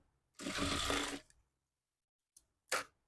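A sewing machine stitches a size 34 boat neck blouse in one close, buzzing run of just under a second, then two quick short bursts after a pause, with no voices.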